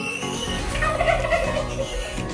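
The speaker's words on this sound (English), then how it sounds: "You could hear the turkeys from the background." Turkeys gobble on a pig farm where goats and chickens are also kept, a loud, close burst of rattling, bubbling calls that rise and tumble over one another with no talk.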